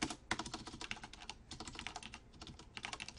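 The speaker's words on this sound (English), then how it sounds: "Jeez, I can't type." Fast, uneven clatter of keys on a computer keyboard during a command-line session, quiet and close with no voices.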